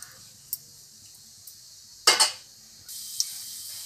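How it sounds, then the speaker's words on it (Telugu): Whole garam masala spices hitting hot oil for a chicken cooker biryani: a sharp burst of sizzling and clatter in the pan, then a steady frying hiss with a few small clinks. "ఆయిల్ వేడెక్కిన తర్వాత మన గరం మసాలాలు వేసేసుకుందాం."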